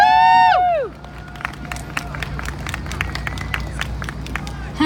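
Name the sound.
festival audience applause and cheering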